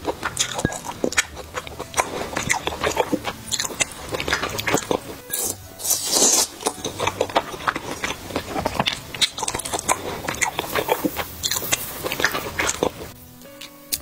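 Dumplings being bitten and chewed close up, a steady run of wet, squishy mouth sounds and soft crunches with no talking, fading near the end.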